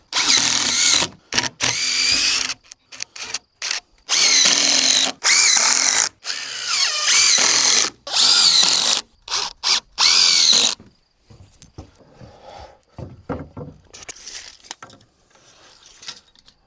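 Power drill repeatedly driving into wooden decking in short bursts of loud whirring, stopping and starting about a dozen times before falling quiet with faint handling noises.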